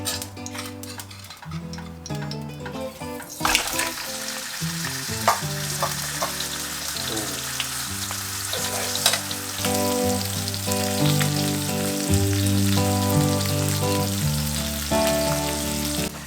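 Tilapia fillets sizzle steadily in hot oil, a constant crackling fry close up, with a low hum and occasional clinks of utensils.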